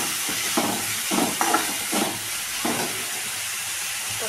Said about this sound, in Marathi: गॅसची फ्लेम थोडीशी वाढवली मी आता कांदा भाजावा यासाठी.